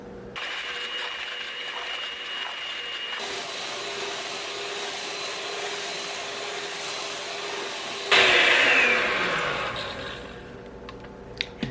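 An electric hand mixer whips cream to stiff peaks for rum and raisin ice cream, a steady loud motor whine that holds for about eight seconds, then surges louder and harsher before winding down into a few light clicks.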